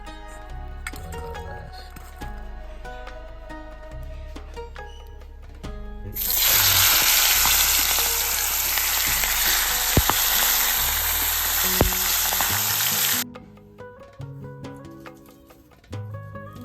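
Rohu fish pieces frying in hot oil, a loud, dense, crackling sizzle that starts abruptly and holds for several seconds before dropping away, set amid background music with no talk.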